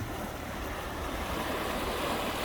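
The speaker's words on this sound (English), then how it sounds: "look at how wide this creek is right now" A creek swollen wide over its banks by snowmelt rushes with a steady, loud broadband roar, mixed with some wind buffeting the microphone, and no voices.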